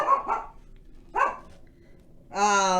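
Dogs bark in a kitchen during cooking: a pair of quick barks, a single bark, then a longer high whining yelp, each loud and close with quiet gaps between.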